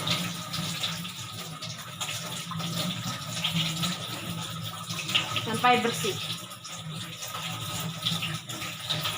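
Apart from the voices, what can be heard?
water running from a tap while rinsing hands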